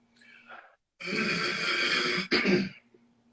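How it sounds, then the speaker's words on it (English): Someone clears their throat up close: a harsh, raspy rumble lasting about a second, then a shorter second burst, with quiet breathing before. "You clear your throat."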